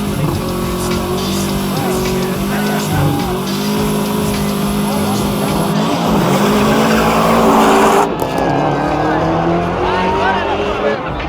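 An Audi R8 and an Opel Calibra race, engines roaring loud and sustained with tire squeal and skidding, revving pitch shifting through gear changes up close while a commentator talks over them.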